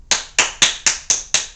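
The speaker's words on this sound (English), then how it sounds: "the clapping thing is all new" Six sharp, evenly spaced hand claps ring out alone, each a crisp close slap in a steady rhythm about a quarter second apart.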